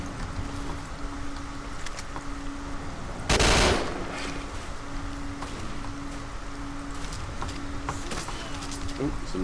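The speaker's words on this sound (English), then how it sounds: "there's quite a few people shooting at me" Bandits open fire in the video game STALKER: Shadow of Chernobyl, mostly distant, muffled gunfire under a steady background hum, with one loud, sharp burst about a third of the way in.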